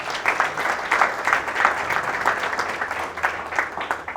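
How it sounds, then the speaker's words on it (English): An evening event audience gives a round of applause, a lively clatter of many hands at moderate loudness with a slightly pulsing rhythm, sustained for the whole stretch and free of talk. "can we please give Fred and Heavy Chef and the team a huge round of applause"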